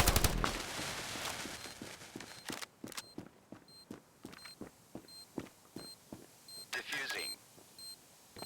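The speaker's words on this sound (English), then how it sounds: "Bomb has been planted." Planted bomb beeping in the shooter game Standoff 2, a sequence of sharp regular electronic beeps among gunfire and footsteps, with a voice announcement over part of it.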